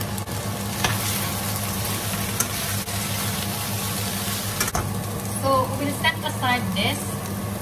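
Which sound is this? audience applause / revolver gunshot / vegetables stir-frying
vegetables stir-frying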